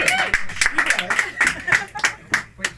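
A sparse scattering of claps rises from a small comedy club audience, irregular hand slaps over lively talk and murmuring.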